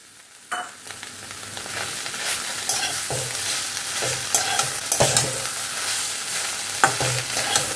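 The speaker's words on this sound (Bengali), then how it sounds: "ডিমটা মিশিয়ে দিলাম এর সঙ্গে।" Vegetables and egg being stir-fried in a hot pan, with a steady sizzle and repeated scraping strokes of a spatula against the pan, close and fairly loud.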